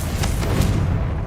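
A Bombarda blast spell in Hogwarts Legacy erupts in a loud, booming explosion with a rumbling low roar and crackling bursts through the whole moment.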